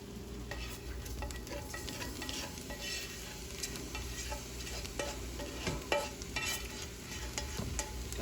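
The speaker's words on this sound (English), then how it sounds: "now Chris is gonna add the shrimp mixture into here" A shrimp mixture is stirred into a sizzling garlic and white wine reduction in a pan for shrimp scampi, with steady frying hiss and repeated scraping stirs up close.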